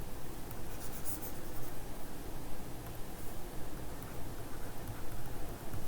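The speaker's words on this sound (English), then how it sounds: "Let me just write it properly." A pen or marker writes an equation during a lecture, making continuous close scratching strokes with a busy rhythm against a steady noisy background. No voice is heard.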